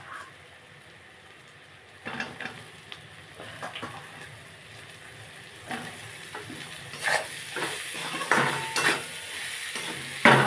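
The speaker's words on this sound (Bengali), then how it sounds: "মশলার সঙ্গে ভালো করে কষিয়ে নেব।" Chopped ash gourd cooking down with turmeric and spices in a pan, with soft sizzling under clinks and scrapes of a spoon stirring against the metal, growing busier and louder toward the end.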